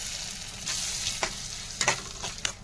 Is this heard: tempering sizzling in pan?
yes